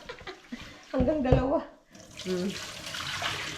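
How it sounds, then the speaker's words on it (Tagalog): Rice being washed in water at home, with short splashing and sloshing bursts between a woman's brief speech. "Dalawang hugasan ng bigas."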